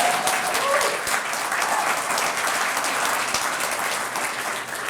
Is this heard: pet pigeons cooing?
no